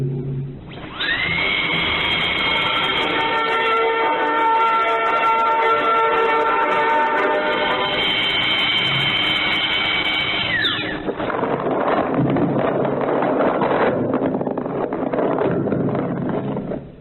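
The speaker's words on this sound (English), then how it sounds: "That's all the drilling we need today." A dentist's drill whines at a high, steady pitch for about ten seconds, close and loud, then gives way to a rougher, broadband hiss as the drilling continues.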